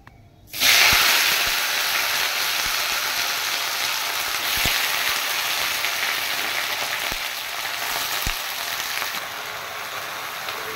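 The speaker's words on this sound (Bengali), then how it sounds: "এবার দিয়ে দেব কেটে রাখা লাউ শাক।" Chopped bottle gourd greens hit hot oil already seasoned with black cumin, bursting into a loud, steady sizzle that holds for about ten seconds with a few faint clicks of stirring, no voices.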